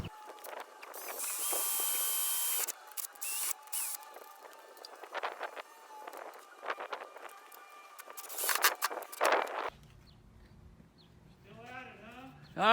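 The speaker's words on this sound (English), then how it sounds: "I'm going to go ahead and drill a couple more holes and put a couple more screws in" Power drill boring screw holes into an RV front cap, several short bursts of whining near the tool with pauses between, plus handling clatter, and a voice talking briefly near the end.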